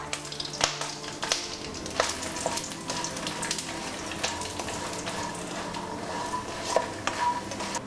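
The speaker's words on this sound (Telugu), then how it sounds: "ఇప్పుడు ఫూల్ మఖనీని లైట్గా ఫ్రై చేసుకుందాం" Phool makhana (fox nuts) frying lightly in hot oil, a steady soft sizzle and crackle with occasional sharp clinks of a stirring spoon against the pan.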